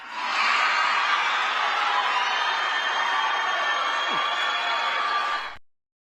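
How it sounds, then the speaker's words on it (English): A large crowd at a Donald Trump rally cheers and roars in one loud, sustained wave that holds steady for several seconds before cutting off abruptly. "A lot of cheers for that line."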